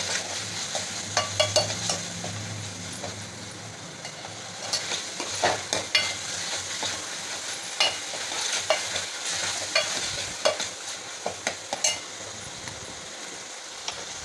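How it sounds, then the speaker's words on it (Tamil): Tomato gravy for a vegetarian liver-style curry sautés in a pan, with a constant sizzling hiss under rhythmic, repeated clinks and scrapes of a spoon stirring against the metal, close and clear. "நல்லா கிரேவியாக வதக்கிக்கலாம். தக்காளி நல்லா மசியணும்."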